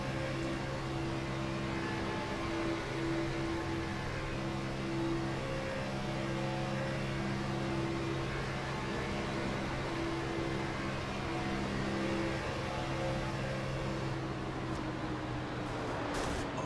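Race car engine at Talladega in the iRacing sim, heard from the cockpit as a steady loud drone with little change in throttle, fading slightly near the end.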